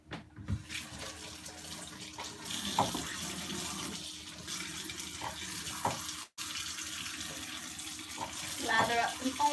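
Tap water runs steadily into a sink while hands are washed during home baking, a continuous splashing wash with small clatters and shifts in the flow.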